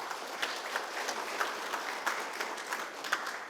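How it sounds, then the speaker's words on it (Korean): Steady audience applause at a literary award ceremony, many hands clapping in a dense continuous patter for the judges, fairly close and without speech. "다시 한번 심사위원 선생님들께 박수 한번 부탁드리겠습니다."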